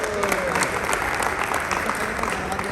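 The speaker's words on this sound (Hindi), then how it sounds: "आप लोग कम से कम लगातार ताली बजाएं" Steady applause from an audience at an event celebrating a team's new Mercedes car delivery, continuous and dense clapping throughout with a crowd murmur underneath.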